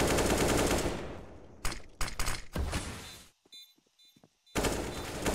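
Gunfire in an esports shooter match: a loud sustained volley of shots, then several sharp separate bursts, a short lull with faint clinks, and another heavy round of firing at the end.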